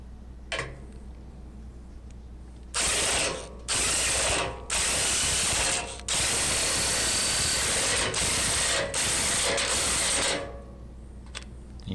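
A ratchet turns replacement anchor bolts into a rusted-out steel door frame, giving loud, close bursts of rapid clicking that stop and start several times, with no talking.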